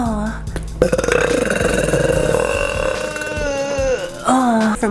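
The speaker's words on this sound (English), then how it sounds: "Burping girl, how do you burp so loud?" A girl belches at length, a loud, drawn-out voiced burp with wavering pitch, ending in a final rising croak, close and unaccompanied by other sounds.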